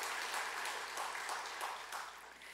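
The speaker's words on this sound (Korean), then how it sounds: "환영의 박수로 축하하겠습니다" Welcoming applause from a congregation during a Sunday church service, steady clapping from many people that carries on evenly before thinning slightly near the end, moderately loud and heard alone.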